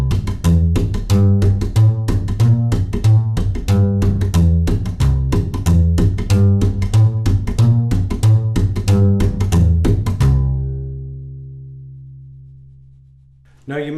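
Rockabilly slap bass drives a steady walking line, each plucked note paired with a sharp percussive string slap in a fast even rhythm, loud and close, before the last note rings out and decays for several seconds.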